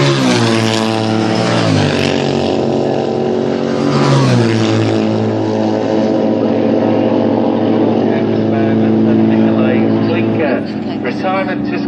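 Racing motorcycles scream past and across the finish line, their high engine notes rising and falling as each machine passes close by, with a commentator talking over the roar.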